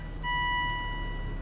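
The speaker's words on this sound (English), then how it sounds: "Why are you still dinging? I got a door open." A 2006 Volvo S80 T6 sounds its door-open warning chime, a steady, clear electronic tone that starts abruptly and holds on without a break over a low idling hum inside the car.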